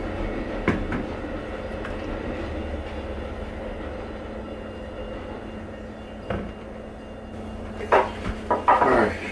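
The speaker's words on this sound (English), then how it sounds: "Train's going by" A train rumbles past at a moderate distance with a steady low roar, joined near the end by sharp clanks and rattles.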